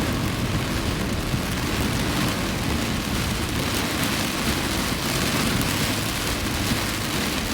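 A steady downpour of heavy rain in New York, loud and unbroken hiss of water on surfaces with a low rumbling undertone, constant from start to finish with no talking.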